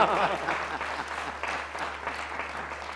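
A seated audience at a comedy show about Pakistan cricket claps loudly and steadily, a dense continuous applause that tapers slightly over a few seconds.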